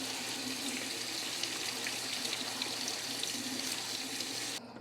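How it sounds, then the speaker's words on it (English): Leeks rinsed in a colander under a kitchen tap, a steady close hiss of running water splashing through the strainer for the whole stretch, with no talk. "So now I'm just going to rinse one more time in the colander to make sure all of the silt is out of the leeks."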